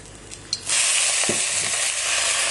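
Red wine vinegar hits caramelised onions in a hot pan, bringing a sudden loud hiss that settles into a steady sizzle, with a brief scrape of stirring, close by and with no voices.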